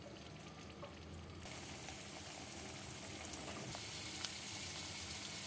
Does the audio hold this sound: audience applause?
no